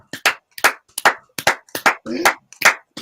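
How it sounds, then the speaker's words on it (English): A small group clapping during a football watch-along, giving about seven short, sharp, separate claps in an uneven rhythm, loud and close, with no talking. "let's clap for Chelsea"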